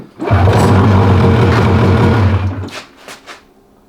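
A two-stroke big-turbo snowmobile engine fires up after its hood is refitted, running loud and close for about two and a half seconds with a rough buzzing drone before cutting out, followed by a few faint clicks.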